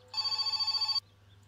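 A single ring of a telephone bell in the My Summer Car video game, a bright, steady electronic trill lasting under a second before it stops, heard alone over a low background hum.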